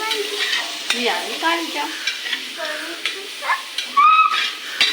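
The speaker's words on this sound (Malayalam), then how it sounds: "അങ്ങനെ നമ്മളത് ഓണിയൻ ഇങ്ങനെ സോട്ട് ചെയ്തുകൊണ്ടിരിക്കുന്നുണ്ട്." Onions sauté in a pan for biryani, giving a soft sizzle and intermittent stirring scrapes beneath a person talking.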